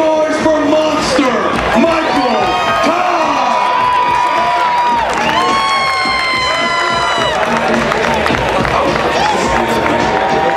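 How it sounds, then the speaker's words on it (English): Crowd cheering and whooping at a CrossFit Games arm wrestling event, a loud, sustained roar of many voices with shouts rising and falling throughout, while an announcer's voice carries over the noise. "Make some noise for Monster."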